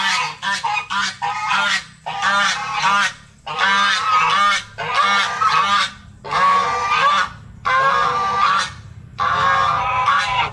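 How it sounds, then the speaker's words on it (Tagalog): Geese honk loudly in repeated bursts of harsh, nasal calls, several birds overlapping in each volley, close by with short pauses between. "Mas maingay sila, gansa to."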